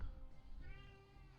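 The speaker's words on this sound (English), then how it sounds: "there's a cat in the background that's going." A cat meows in the background of a room, one drawn-out wavering meow heard faintly behind a low steady hum.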